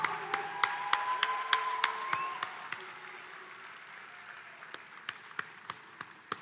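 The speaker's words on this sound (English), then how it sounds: "Let's give our graduates the applause and recognition that they so rightfully deserve." Scattered applause at a spring community college commencement, with sharp individual claps in a large space that thin out and fade to a few isolated claps, alongside a faint sustained tone.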